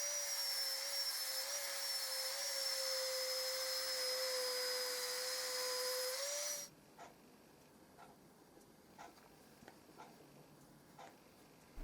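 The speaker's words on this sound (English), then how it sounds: "shape it to match the curvature of the leg using my electric" An electric file shapes wood on the curved leg of a vintage display cabinet, running as a steady high whine and hiss for about six seconds, then cutting off to near silence with faint taps.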